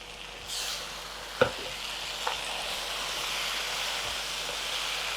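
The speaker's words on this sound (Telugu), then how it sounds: "పీస్ వేగినాక నేను గ్రేవీని కోటింగ్ లాగా వేస్తున్నా ఇప్పుడు మళ్ళీ సిమ్ చేస్తున్నాను" Chicken joint pieces coated in gravy simmer in a pan, giving a steady, close sizzle with a couple of sharp stirring knocks and no voices.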